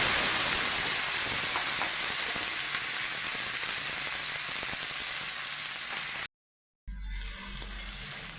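Okra tossed into hot oil with black cumin seeds, sizzling and frying steadily in a wok as it is stirred and turned, a dense continuous hiss that cuts out briefly before resuming.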